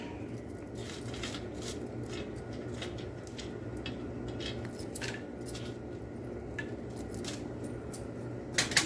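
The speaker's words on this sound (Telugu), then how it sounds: "ఈ పల్లీలను వేసుకుందాం." Handful of peanuts dropped into a pan for a Telugu roti pachadi with ivy gourd pieces, a run of small dry clicks and rattles over a steady background hum, with a couple of louder knocks near the end.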